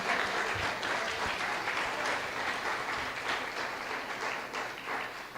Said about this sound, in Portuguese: Aplauda o Senhor, aleluias.